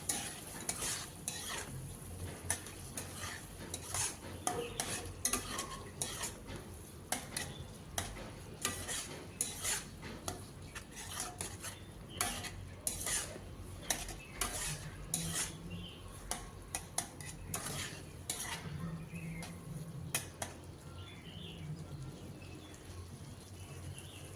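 Mustard paste spices are stirred and fried in a pan. Quick, repeated scraping clatter from a spatula runs over a low, steady sizzle close by.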